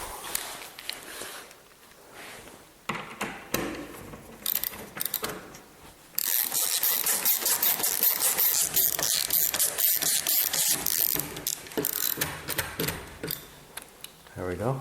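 Fastener being tightened on a DIY arcade cabinet build, with ratcheting mechanical clicks and brief scraping, close by and moderately loud, growing denser midway; a voice talks intermittently.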